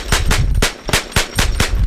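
An 1877 Bulldog crew-served gun fires a rapid string of loud, sharp shots at a machine gun and cannon shoot, about six bursts in under two seconds with a rough, uneven rhythm.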